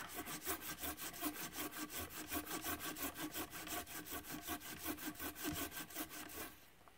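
A camping hand saw cuts through wood in steady, rhythmic back-and-forth strokes, close and loud, each stroke a raspy burst, the sawing stopping just before the end.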